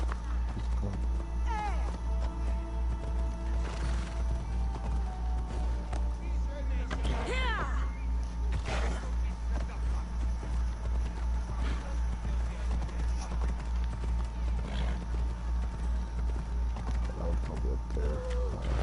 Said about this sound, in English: oh my god, a horse coming down.